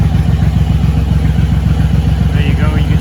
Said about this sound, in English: Just fire the bike up here for a sec.